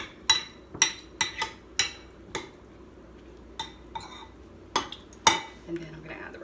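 Chickpea pasta stirred in a pan with a utensil, giving a series of sharp metallic clinks and scrapes in an irregular rhythm, close and moderately loud with quiet gaps between.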